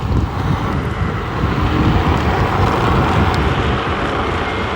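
An Ausom DT 2 Pro dual-motor e-scooter rides fast in race mode, heavy wind buffeting the microphone over a steady rolling drone throughout, with no voices.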